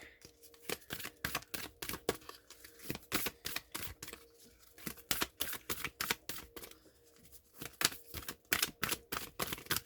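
A deck of cards is shuffled close by, with rapid crisp riffling bursts and flicks repeating in quick rhythm, fairly faint and with no voices.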